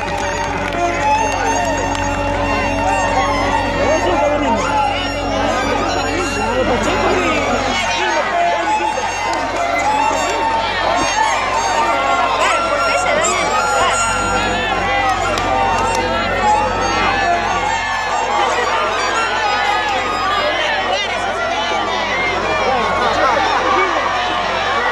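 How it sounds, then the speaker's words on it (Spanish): During a contest between two musicians, Juan Chico and Quinto Chico, a lively crowd cheers and shouts continuously, with loud overlapping voices and a busy babble that carries on throughout. "un aplauso para los dos"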